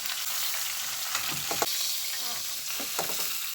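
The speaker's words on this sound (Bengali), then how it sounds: "মশলাটা একটু ভাজা ভাজা করবো।" Spices fry with onions in a pan for a spinach, fish and tomato bhuna, a steady loud sizzle close by with scraping stirs of the spatula breaking through.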